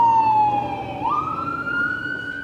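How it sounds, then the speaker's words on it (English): A fire engine, Engine 193, races down the road to an emergency, its loud wailing siren falling, then rising again over a low engine rumble. "Engine 193 races down the road for an emergency."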